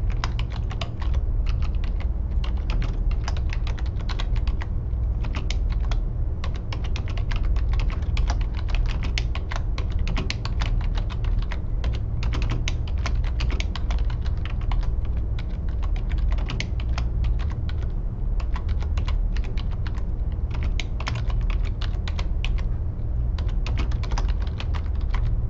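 Rapid, continuous clicking of a computer keyboard being typed on, close and steady with an even rhythm for the whole stretch, with no talking.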